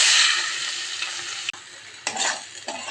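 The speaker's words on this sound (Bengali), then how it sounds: "পেঁয়াজটা ভাজা হোক," Chopped onion fries in hot oil in a wok with fenugreek seeds, a loud close sizzle that fades, then is stirred with sharp scraping bursts.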